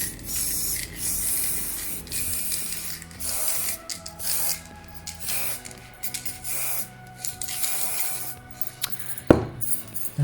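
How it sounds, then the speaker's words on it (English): Repeated short hissing bursts of a spray can, close by, spraying acrylic ink onto a painting, coming in a steady series of pulses with brief pauses between them. "I decided to spray it. I think it's going to be quicker."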